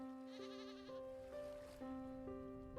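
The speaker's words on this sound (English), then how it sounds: "I heard a goat." Several bleats from a goat in the game Vintage Story, repeated tonal calls with a steady pitch, rising and falling over a low ocean-like wash in the background, fairly close and alone without talk.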